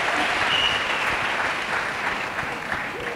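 A congregation at a national Bible camp applauds for Jesus Christ. The clapping is dense and sustained, fading slightly toward the end, with a faint voice underneath.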